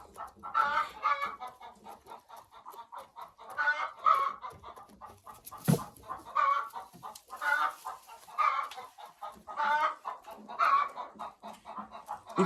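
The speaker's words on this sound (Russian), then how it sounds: "Петушок помесный с моей чубатой курочкой и петухом" A crossbred young rooster, the offspring of a crested hen and a Marans rooster, clucks with hens in a repeated, uneven rhythm of close, moderately loud calls, with a sharp knock midway and no talking.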